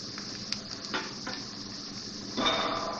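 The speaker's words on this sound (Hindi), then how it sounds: "अब मैं इसमें ज़ीरा डाल रही हूँ।" Cumin seeds dropped into softened onions frying in a pan give a soft steady sizzle with faint clinks of a utensil and a brighter burst of crackling toward the end.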